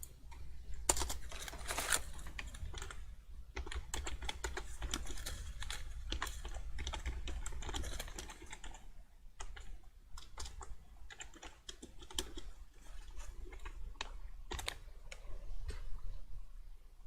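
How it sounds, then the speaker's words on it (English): Fairly quiet, continuous typing on a computer keyboard, with irregular bursts of clicking keystrokes across the whole stretch and no one talking. "So I just need to move my hand now so I can type."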